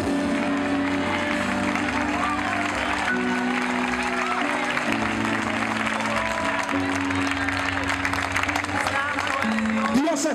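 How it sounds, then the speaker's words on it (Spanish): Church congregation applauding during a Spanish-language sermon, steady sustained clapping under a continuous sung or held tone, with voices carrying through the crowd. "¿Alguien puede aplaudir a Dios hoy?"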